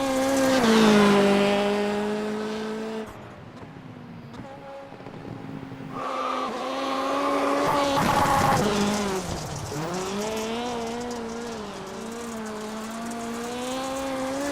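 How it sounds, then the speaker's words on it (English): A race car drifts in iRacing, its engine whining at high pitch while the tires squeal, with revs dropping and climbing again through the slide, loud and close throughout. "See, I can drift a car."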